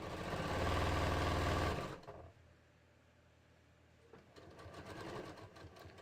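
Sewing machine stitching darts on a dress bodice, a loud steady run of fast needle hum for about two seconds, then a quiet pause before the motor starts up again more softly.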